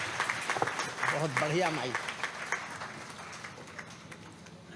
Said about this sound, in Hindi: आप जोरदार तालियों से स्वागत कीजिए।